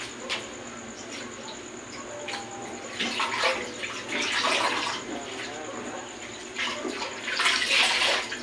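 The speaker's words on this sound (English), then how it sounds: "Then after that, we're going to wash with soap and water." A patient is washed with soap and water during a bed bath, with quiet splashing and wringing of water in a basin that comes in soft bursts, growing louder toward the end, and faint talking in the background.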